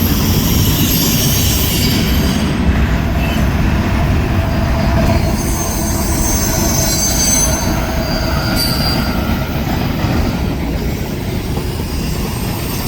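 CSX ES44 locomotive acting as a distributed power unit rolls past on the Fostoria, Ohio rail junction, a steady loud wall of wheel rumble and rail noise with high-pitched wheel squeal coming and going throughout.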